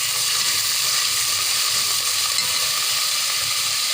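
Onion paste with cinnamon, small cardamom pods and bay leaves fries in oil, giving a steady, even sizzle with faint scraping of a stirring spoon throughout, close and unbroken.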